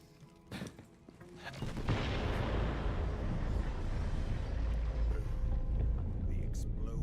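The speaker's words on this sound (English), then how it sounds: "The explosion echoed through the forest" A loud explosion in the video game Borderlands 3 bursts out with a sharp hit, then swells into a sustained heavy roar and rumble that keeps going for several seconds, with no talk over it.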